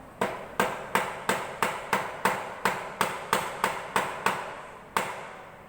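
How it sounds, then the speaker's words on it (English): Sharp, evenly spaced hammer blows, about a dozen in quick succession, close by, with a slightly longer pause before the last strike, during the building of a canjo. "Try not to hammer my finger this time."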